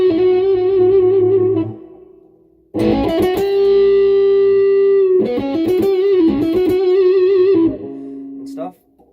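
Custom-built wood box electric guitar played through both pickups blended, ringing sustained chords with effects and distortion, loud and close in two long strums separated by a brief gap.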